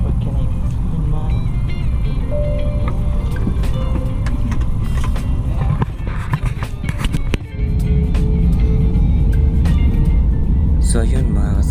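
Airliner taking off from Istanbul Airport, heard from inside the cabin as a loud, steady engine roar and rumble throughout, with people talking over it.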